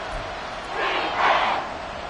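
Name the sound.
stadium crowd roaring at Arrowhead football game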